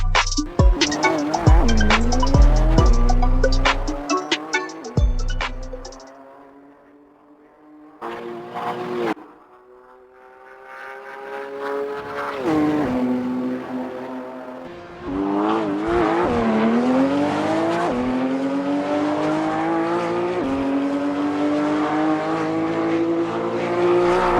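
A Cybertruck drag races a McLaren Senna, LaFerrari and 911 Turbo S: loud engines roar and rev with rising gear-change sweeps, a brief lull, then another full-throttle acceleration run close by.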